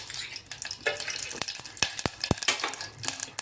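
Two spoons of pure ghee heat in a pot on a gas stove before grated apple goes in for apple kheer, giving soft sizzling with several sharp scraping stirs and clicks, close by, no talk.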